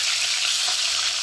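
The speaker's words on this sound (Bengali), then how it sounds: "উল্টিয়ে পাল্টে কিন্তু আমি এটাকে ভেজে নেব" Katla fish sizzles steadily in hot oil in a pan, a dense, even hiss of frying close up with no pauses and no talk.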